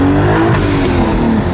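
A BMW G80 M3 sweeps past at close range with a loud, rising engine note and a Doppler pitch shift as it goes by, strong throughout and with no talking over it.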